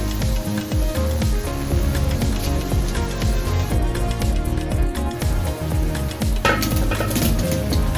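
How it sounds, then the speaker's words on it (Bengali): Whole dried chillies hit hot oil in a pan while making a mango and naga chilli pickle, giving a steady, close sizzle with frying crackle and a few light clinks of utensil on the pan throughout. "সেই আস্ত শুকনো মরিচটা দিয়ে দিচ্ছি"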